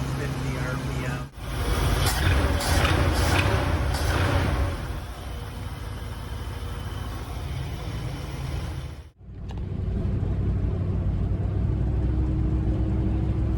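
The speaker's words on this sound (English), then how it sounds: "Pedal's really nice, running at about 750 RPM." A 1979 Dodge D100 Stepside truck with a rebuilt Edelbrock 1406 carburetor idles at about 750 RPM, a loud, steady engine rumble close by, with two brief dropouts and a short burst of higher noise early on.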